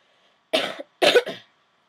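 A person coughs close to the microphone while playing Minecraft, two harsh coughing bursts, the second splitting into a double hack, with silence before and after.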